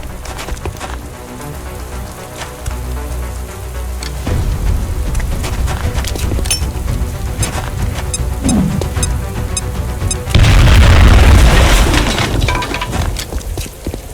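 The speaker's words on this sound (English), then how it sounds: "Now toss your grenade at the enemy in front of you." A grenade explodes in XCOM: Enemy Within battle, a loud sudden blast near the end with crackling debris rain, following gunfire-like rattling and a steady ambient hum.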